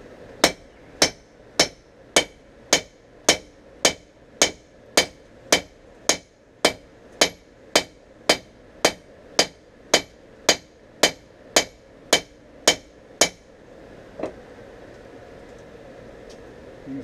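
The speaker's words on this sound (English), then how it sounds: "Starting a hammer in the bevels." Steel cable damascus knife blank being hammered to start the bevels, about twenty-four loud, evenly spaced ringing blows in a steady rhythm, then stopping and leaving quieter workshop noise.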